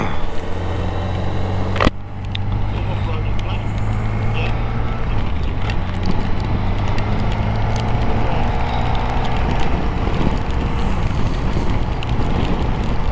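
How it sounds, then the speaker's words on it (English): Strong wind buffets the microphone during a motorcycle tour in Switzerland under a cloudy sky, a steady loud roar with a low engine drone running beneath it throughout, after a brief knock near the start. "It's just cloudy, it's very windy."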